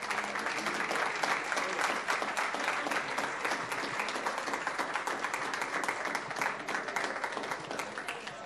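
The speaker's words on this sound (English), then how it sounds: "let's give him a big round of applause." Sustained applause from a board meeting audience honouring retiring teacher Mr. Pegg, a dense, steady wash of many hands clapping throughout at even loudness.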